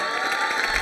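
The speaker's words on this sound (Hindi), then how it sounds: "होली पे तो जबरदस्त तालियां बजाइए" Brief burst of crowd applause and cheering from the audience at a Holi-themed college quiz show at a girls' college, dense and continuous across the short moment.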